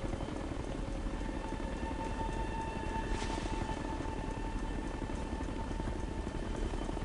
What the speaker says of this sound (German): Wenn der Heli uns sieht, wird's schnell ungemütlich.